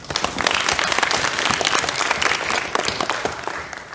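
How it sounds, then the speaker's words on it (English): A conference audience at a Google office in Gurgaon applauds as speakers walk onto the stage, with many hands clapping in a lively, even burst that fades slightly toward the end. "let's give them a huge round of applause as they come on the stage"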